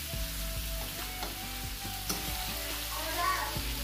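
Chicken breast stir fry sizzles in a pot while it is stirred, a steady close frying hiss with repeated soft knocks and scrapes of the utensil against the pot.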